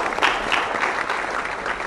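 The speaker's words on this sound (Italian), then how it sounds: "grazie per questo applauso di compassione" Dense audience applause filling a theatre hall, steady and loud throughout with many hands clapping at once and no voices over it.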